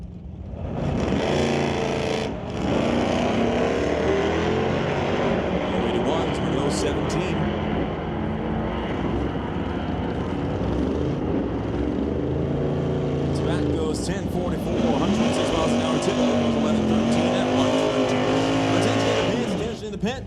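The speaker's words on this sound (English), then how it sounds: "Racing the 468 cubic inch Chevelle from 1967" A 468 cubic inch 1967 Chevelle and a titanium Honda S10 drag race, engines roaring loudly and continuously with rising revs, over steady background noise and an announcer talking.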